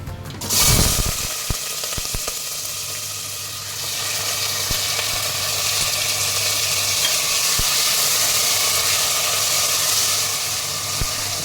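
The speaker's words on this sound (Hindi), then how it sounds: "देखिए सब चटकने लगा है।" Spices and curry leaves crackle and sizzle in hot oil as aloo tamatar sabzi is cooked, a loud hiss that bursts up and then holds steady, with scattered sharp pops and no speech.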